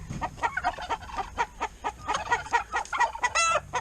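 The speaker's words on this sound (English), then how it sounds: "And chickens can come on out." Several chickens cluck near a coop door with a rooster among the pullets, a close series of short, choppy clucks and calls in quick succession.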